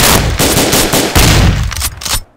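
Rapid, loud bursts of automatic gunfire from a first-person shooter game, dense and continuous for about two seconds before cutting off abruptly.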